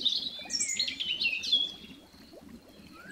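Birds chirp and sing in spring trees, a lively stream of high tweets and trills layered close together over soft ambient rustle, with no voices.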